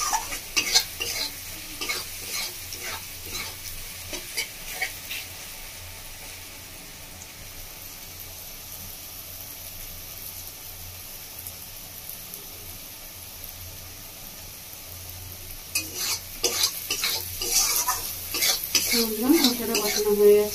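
Spice masala frying with onions in a pan for Bengali-style chicken kosha, a steady sizzle under repeated stirring and scraping that swells near the end with clattering utensil strokes.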